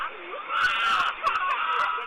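A child screams aboard a school bus while a man strikes the driver, a loud, strained, wavering cry of about two seconds captured by onboard surveillance, with muffled voices mixed in.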